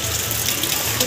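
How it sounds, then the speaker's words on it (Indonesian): Rain in the mountains easing off, a steady wet hiss of water falling and running, close and fairly loud with no talk. "Ini alhamdulillah hujannya udah mulai reda."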